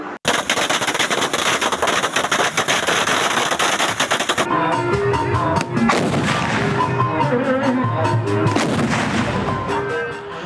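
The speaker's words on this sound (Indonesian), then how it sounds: "menikmati dentuman meriam karbit" Deep booming blasts of carbide cannons fire repeatedly at a village festival in Bekasi, West Java, loud and rumbling, with echoing reports overlapping one another throughout.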